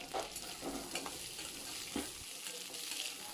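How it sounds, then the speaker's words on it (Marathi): Green peas roasting in a spoonful of oil in a kadai over a medium flame, a soft continuous sizzle with occasional stirring scrapes and knocks. "या तेलावर हे मटार आपल्याला हलके डाग येईपर्यंत भाजून घ्यायचे आहेत"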